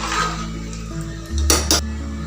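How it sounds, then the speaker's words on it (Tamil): A metal whistle weight is set onto a pressure cooker lid with a couple of sharp clinks close by, above a steady low hum from the stove. "இப்போ குக்கர் விசில் போட்டிருக்கேன்,"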